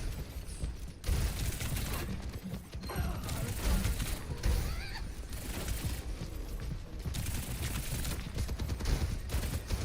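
Rapid gunfire in Overwatch 2 aimed at an enemy tank, dense bursts of shots and mechanical clatter packed closely together amid busy game sounds, loud and continuous.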